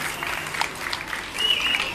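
Spectators clap for a costumed Frederick Barbarossa in a historical parade under city porticoes in Como. The applause is scattered and moderate, with voices mixed in.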